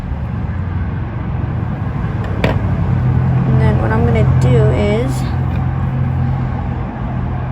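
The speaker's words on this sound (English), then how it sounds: "such loud cars." Loud cars pass outside, making a broad, rumbling swell of traffic noise that builds and fades under a person's steady speech indoors.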